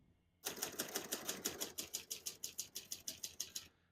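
Someone types on a 1966 Hermes 3000 portable typewriter, a fast, even run of about twenty crisp key strikes at close range, with no talking.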